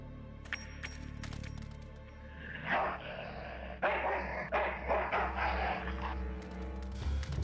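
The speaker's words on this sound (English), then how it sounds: "Should I talk to the dog?" In the adventure game Full Throttle Remastered, an ill-tempered mongrel dog barks and growls in a string of sharp, close barks over a low game soundscape.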